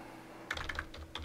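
A computer keyboard being typed on during work in Microsoft Excel, a short quick burst of soft, close keystrokes following a moment of quiet, with no talk.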